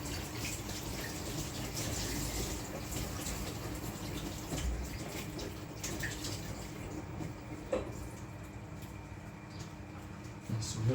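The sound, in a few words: rinsing a cloth under running water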